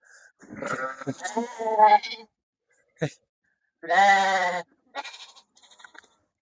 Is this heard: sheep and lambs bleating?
yes